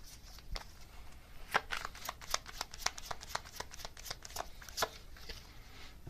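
A deck of tarot cards is shuffled by hand for a message card reading, producing a quick series of crisp, close riffling snaps with no voice over them.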